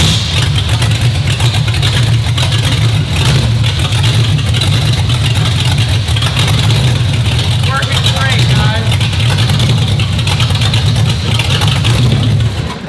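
V8 engine in a custom micro car running loudly and close, a heavy steady low rumble with constant idle throughout, while people talk over it.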